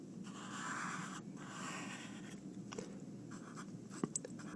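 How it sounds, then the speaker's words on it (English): A pen or pencil scratching on paper while drawing a tape diagram, soft faint strokes in short bursts with brief pauses, ending in a couple of small taps. "I'll draw my tape diagram like this."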